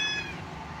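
A cat gives a single short meow while being fed chicken, close and fairly quiet, with a faint room background and no talking.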